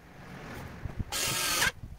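A power driver spins screws into the outer body shell of a Piaggio Beverly 300 ie scooter: a short, loud whirring burst of about half a second, preceded and followed by faint clicks and handling noise.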